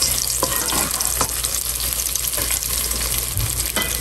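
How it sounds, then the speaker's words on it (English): Bacon and onion fry in a pot for beef bourguignon, a loud, continuous close sizzle with stirring scrapes and a low steady hum beneath, nobody speaking. "I want to cook this until the bacon gets crisp and the onion is soft"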